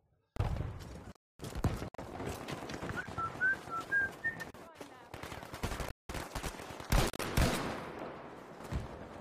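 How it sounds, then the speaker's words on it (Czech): Cannon fire in the World War II shooter Battlefield V, with heavy booming blasts breaking through a busy battlefield mix of gunfire and bird-like whistles, while someone talks over the action. "Hele, to je dělo."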